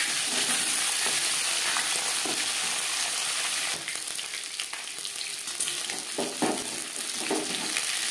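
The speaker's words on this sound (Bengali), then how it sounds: "একটা সাইড ভাজা হয়ে গেলে অপর সাইডটা উল্টে দেবো" Aar fish and fish heads frying in hot oil in a pan give a loud, continuous sizzle and crackle close by, with occasional sharper spits and pops.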